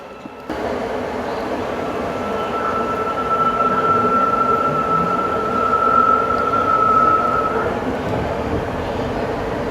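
A Rapid KL MRT metro train in the Klang Valley runs steadily with a loud rumbling roar, a thin metallic whine riding over the noise for several seconds.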